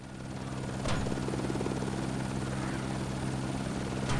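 A video game helicopter flies and comes in to land, its rotor giving a steady loud throbbing drone with engine whine that holds throughout.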